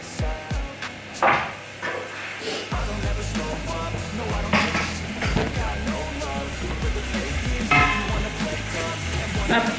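Onions frying in a pan at the start of a ground meat dish give a steady, continuous sizzle, with a few clatters and stirring knocks from utensils on top.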